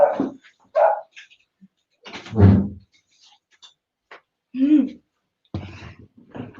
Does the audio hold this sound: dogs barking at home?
yes